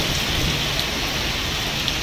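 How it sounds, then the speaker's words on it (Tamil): Heavy rain pours down at night in a steady, dense hiss, with low thunder rumbling beneath it, loud and continuous throughout. "இதனையடுத்து மாலை வேளையில் பெய்யத் துவங்கிய மழை தற்போது இரவு நள்ளிரவு வரையில் தொடர்ந்து பெய்த வண்ணம் உள்ளது"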